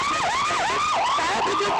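Ambulance siren wailing in repeated rising and falling sweeps at a hospital in Ahmedabad after a plane crash, loud and steady with no talk over it.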